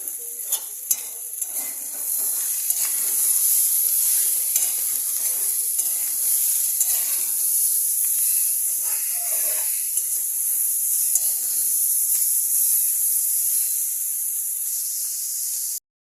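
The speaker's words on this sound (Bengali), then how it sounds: "এই সবজিটা ভাজা হয়ে গেছে" Vegetables for navratan korma, seasoned with salt and turmeric, fry in a pan with a loud, continuous bright sizzle and hiss, with occasional spatula stirs and scrapes up close.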